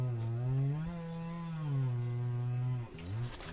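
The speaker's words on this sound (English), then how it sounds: "Bless Mr. Jem and his chainsaw" A chainsaw drones steadily at a distance, its pitch wavering slightly before briefly dipping and picking back up.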